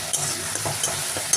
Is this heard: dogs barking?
no